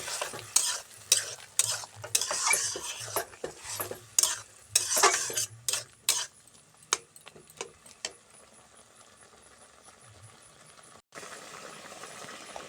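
Kochur loti curry being stirred with coriander and cumin powder in a sizzling pan: a run of rhythmic scraping spoon strokes over frying hiss, the strokes fading out halfway and leaving a soft sizzle.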